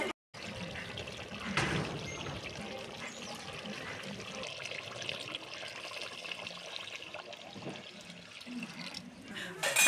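Water is poured into a pot of chicken curry, a continuous splashing and trickling stream lasting several seconds, with faint kitchen background.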